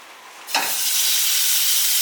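A seasoned beef fillet hits a hot pan and starts searing with a sudden loud sizzle, then keeps up a steady, close, hissing roar.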